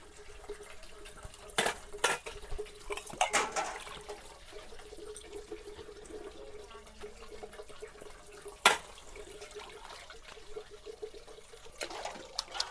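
Dishes clatter and clink under running tap water, with a few sharper knocks of pots and cutlery scattered through; no one speaks.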